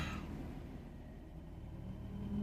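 A low, steady engine rumble fills the cabin of a car while sitting inside it, a muffled droning hum throughout with no one speaking.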